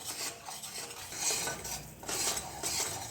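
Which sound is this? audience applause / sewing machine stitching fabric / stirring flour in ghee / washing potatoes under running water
stirring flour in ghee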